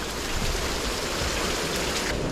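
Heavy rainwater rushes through a swale, making a loud, continuous, broadband roar that stays even throughout with no voices.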